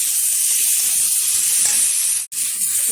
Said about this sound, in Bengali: এখন দিয়ে দেবো সিদ্ধ করে রাখা মাশরুম, আবার কষিয়ে নেব বেশ কিছুক্ষণ।